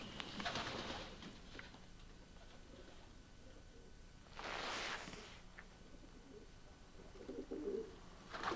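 Racing pigeons in a loft housing about 600 birds, soft cooing and bursts of wing or rustling noise scattered over a continuous low ambient hum.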